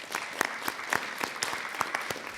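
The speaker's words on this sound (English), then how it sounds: "So if you could give them a round of applause," Audience at a board meeting giving a short round of applause, fairly quiet and thin, with a handful of distinct claps standing out in a steady patter.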